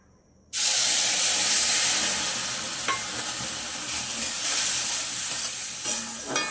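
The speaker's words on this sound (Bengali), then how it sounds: "এবার আমি অল্প অল্প করে জল দেব আর এটাকে নাড়তে থাকবো" A pan of fried semolina bursts into a loud hiss and sizzle as water hits it, then keeps bubbling steadily with occasional scraping stirs.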